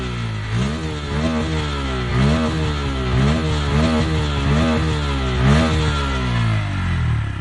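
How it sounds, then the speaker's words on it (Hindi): A modified Bajaj Pulsar N160 motorcycle exhaust revs repeatedly in close, loud bursts, its engine pitch rising and falling in a regular rhythm with a throaty, slightly rattly tone. "तो ये कुछ इसकी एग्जॉस्ट की साउंड है।"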